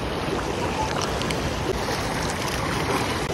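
Floodwater surges through a village in a broad, continuous rushing roar, loud and unbroken from start to finish, with no voices over it.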